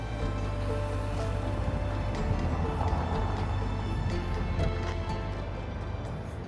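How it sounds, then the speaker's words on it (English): Steady roar of traffic rushing past on Broad Street after a light turns green, a dense continuous rumble of many vehicles with no pauses, fairly loud and close. "Once the light turns green, it's like a rushing river of cars."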